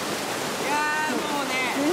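Steady broadband rush of a waterfall pouring down beside an outdoor hot spring bath at Inawashiro, constant and close, with people talking over it.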